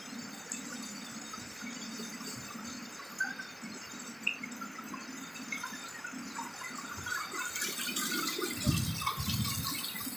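Flood water from heavy rain flows and trickles steadily through a yard nearby, with scattered drips, growing louder and more gushing toward the end.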